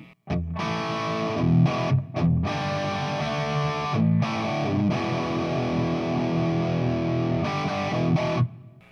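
A heavily distorted electric guitar plays thick, sustained chords through an amp, with brief gaps between strummed phrases.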